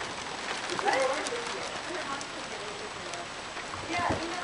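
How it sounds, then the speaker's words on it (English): Summer rain falls steadily outdoors, a dense even patter of drops with a few louder splashes, close and continuous throughout. "Man, I'm out here in the rain filming it."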